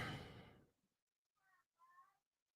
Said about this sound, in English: you guys hear my cat in the background?